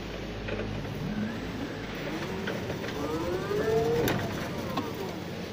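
A radio-controlled truck with a very tired battery drives along, giving a steady whirring motor drone with rising and falling whine as it moves and turns, continuous and fairly close.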